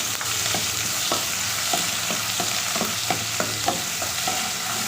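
Garlic ginger paste frying in hot oil in a karahi gives a steady, close sizzle, with a spoon scraping and stirring at a fairly regular beat.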